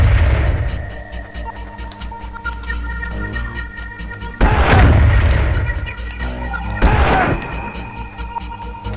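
Tank shells striking during a bridge and government-zone mission in Spec Ops: Covert Assault: two loud, close booming impacts with long rumbling tails over a steady droning game background, no talk.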